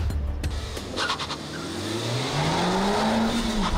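A Honda Civic Type R engine accelerates hard, its note rising in pitch as it pulls through the revs. A few sharp clunks come first, and then a loud, close whine climbs steadily.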